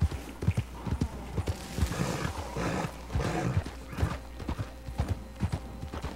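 Horse hooves clip-clop in an uneven trot with rustling and a brief whinny-like cry, loud and close, in the video game Red Dead Online.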